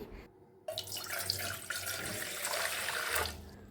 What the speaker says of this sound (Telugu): ముందుగా ఒక గిన్నె తీసుకొని అందులో ఒక గ్లాస్ వాటర్ వేసుకోవాలి